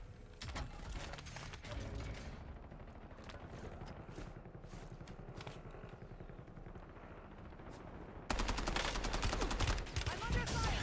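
Bursts of rapid automatic gunfire in the Warzone video game, steady and fairly loud across the scene, growing louder and harsher near the end, with mechanical clatter mixed in.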